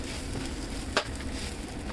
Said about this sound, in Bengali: লবণটা দেওয়ার পরেও আমি এটা আরও প্রায় 5-6 মিনিটের মতো ভাজবো চালটা।